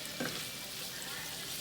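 Food frying in a pan gives off a dense, even, hissing sizzle that holds steady throughout, close, with one faint clink near the start.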